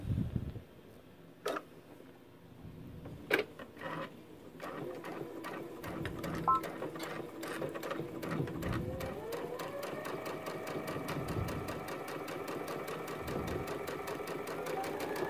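A sewing machine stitches fabric for a Christmas stocking, starting with a few hesitant clicks, then running in a steady, rapid, close mechanical rhythm that speeds up over about ten seconds.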